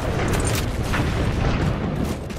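A grenade blast in a Halo 4 Infinity Slayer match: a loud, broad, rumbling boom that fills the whole moment without letting up, with no voices over it.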